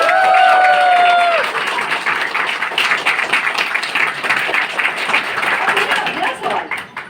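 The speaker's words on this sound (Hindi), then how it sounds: "जोरदार तालियां।" A crowd at a business training session in Jaipur gives loud, sustained applause with dense clapping, opening with a brief whistle-like tone and tapering off near the end.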